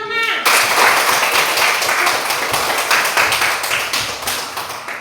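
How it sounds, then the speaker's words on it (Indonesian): Children clapping together in a classroom, a dense burst of many small hands beating fast and close, with a teacher's voice over it at the start. "Tepuk tangan, Nak."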